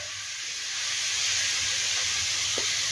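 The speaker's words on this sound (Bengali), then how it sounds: "এটাকে একটু ভালো করে ঘির মধ্যে ভেজে নিতে হবে।" Papaya pieces frying in ghee for a halwa with dry fruits give off a steady, loud hiss of steam and sizzle, continuous throughout with one brief knock near the end.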